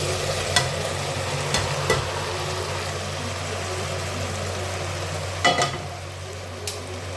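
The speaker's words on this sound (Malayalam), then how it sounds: "ടൊമാറ്റോയും ചേർത്ത് കൊടുത്തിട്ട് നമ്മുടെ ഈ ചിക്കൻ ഇതിലേക്ക് ഇട്ട് കൊടുക്കാം." Chicken sizzling with tomato and spices in a pan for a coconut milk curry, a steady low fry under occasional sharp clinks and scrapes of a spoon stirring, with no talking.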